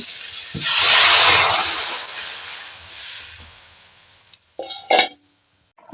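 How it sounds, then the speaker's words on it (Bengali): Coriander gravy heats in a pot with a loud hissing, steaming sizzle that swells and fades, followed by a few sharp clinks of metal utensils against the pot. "ঝোল ফুটে উঠেছে"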